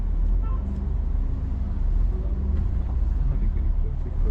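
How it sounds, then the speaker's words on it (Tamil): A car rolls past on a road near a waterfall trip route, a low rumbling engine and tyre noise swelling and fading steadily while people talk faintly nearby. "கௌஷிக் வண்டி வந்துடுச்சு"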